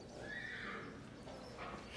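A competition horse arriving from France whinnies loudly once in a long, high neigh that fades out over a quiet, steady background.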